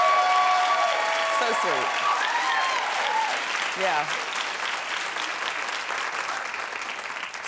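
A talk-show studio audience applauds steadily while a woman and a co-host talk briefly over it, the clapping loud at first and gradually easing off.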